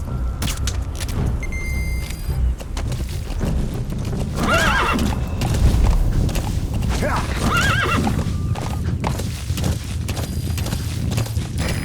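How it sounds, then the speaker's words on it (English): Horse hooves clip-clopping at a steady gait with a couple of clear whinnies and neighs, set against the open wilderness of the game Metal Gear Solid V: The Phantom Pain, with a low rumbling ambience underneath and no voices. "Use your horse."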